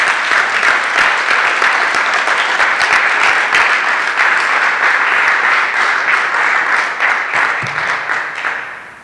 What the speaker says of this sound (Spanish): Si alguien cree, dele unas fuertes palmas al Señor.